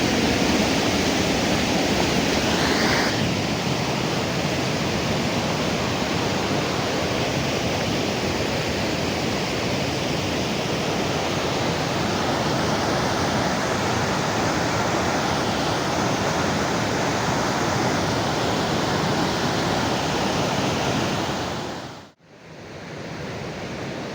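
River water rushes steadily beside a mountain path just below a waterfall, a loud continuous broadband roar that stays constant and close, with a brief dip near the end.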